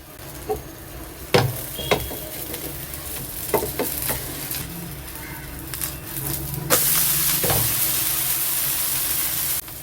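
Onion dosa batter fries in groundnut oil on a hot pan, with a steady sizzle, several sharp clinks and scrapes of a utensil, and a louder burst of hissing partway through.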